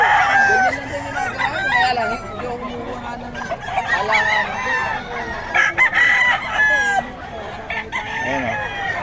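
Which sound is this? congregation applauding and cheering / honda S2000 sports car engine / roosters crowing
roosters crowing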